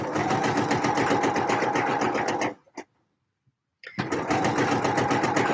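A sewing machine with a blind hem foot stitches Magnolia fabric in steady rapid bursts, running about two and a half seconds, pausing in near silence with a faint click, then starting again.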